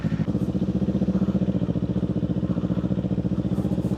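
A motorcycle engine runs steadily and close by, with a rapid, even throbbing pulse that lasts the whole stretch, and no one talks over it.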